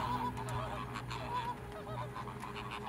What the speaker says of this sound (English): Pink flamingos.